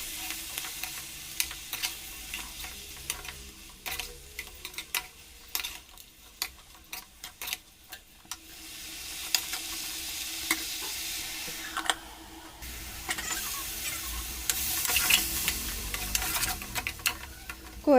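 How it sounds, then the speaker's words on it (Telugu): Malabar spinach curry sizzles steadily in a pan on a slow flame while a spoon scrapes and stirs it in frequent close taps and clicks, the frying hiss swelling louder toward the end. "బచ్చల కూర వేసుకొని స్లో ఫ్లేమ్లో పెట్టుకొని మగ్గించుకుందాం బాగా"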